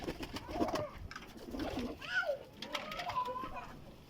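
Pigeons on a rooftop loft cooing steadily, several overlapping throaty coos close by, with faint voices in the background.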